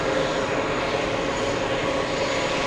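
An Airbus A380's auxiliary power unit starts up at an airport, giving a loud, steady, broadband turbine roar with a faint high whine. It is continuous and close, with no speech.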